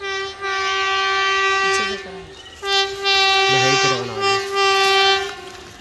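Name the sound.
train approaching on railway tracks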